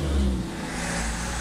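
A truck passes on a road during an outdoor jog, a close, loud engine roar and rumble that holds steady through the short moment.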